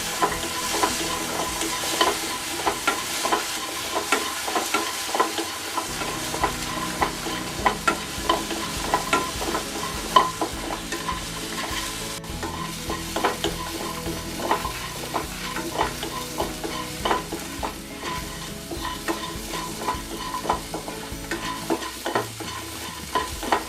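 Eight shallots and five garlic cloves fry in hot oil for a brinjal masala curry. A steady, loud sizzle continues throughout, broken by frequent scraping stirs of the pan.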